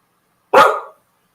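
A single sharp bark from a pet dog, close and loud, standing alone against silence.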